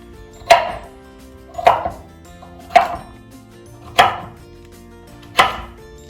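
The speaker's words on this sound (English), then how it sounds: "I'm gonna coarsely chop up 1 medium carrot." A knife coarsely chopping a medium carrot on a cutting board, five loud, distinct thunks spaced roughly a second apart with quiet between them.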